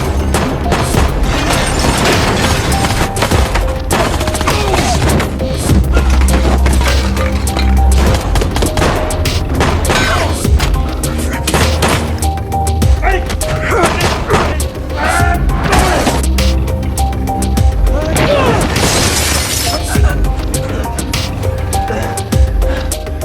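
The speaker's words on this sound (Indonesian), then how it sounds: "sebelum baku tembak terjadi di ruangan itu" A gunfight from a Jackie Chan movie scene plays as a dense, loud barrage of gunshots, booms and crashing impacts, with dramatic music and a narrating voice running beneath.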